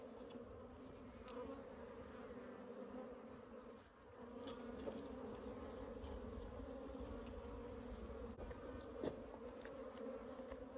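Honeybees buzzing at an opened water meter hive during a drone comb mite check, a dense continuous hum of many bees, fairly close, with occasional individual bees flying past.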